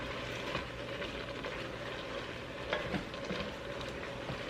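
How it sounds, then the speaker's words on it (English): Jam mixture of carrot cake ingredients at a full boil in a pot on the stove, a steady soft bubbling and sizzling hiss with a few faint clinks, quiet and close. "our mixture is now at a full boil"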